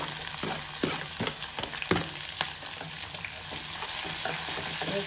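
Garlic and chillies frying in a pan, a steady close sizzle with intermittent scraping clicks from stirring, no voices.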